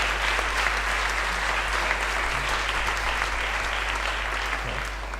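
Warm, dense applause from an awards gala audience honoring a film editor, close and steady for several seconds with a constant low hum underneath, tapering slightly at the end and free of speech.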